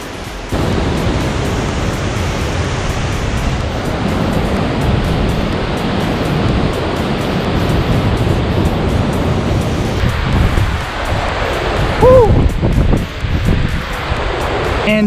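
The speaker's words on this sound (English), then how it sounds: "I can feel the mist coming off the waterfall." A waterfall on a mountain hike near Telluride, Colorado roars as a constant broadband rush, loud and close, mixed with wind buffeting the microphone and a brief voice near the end.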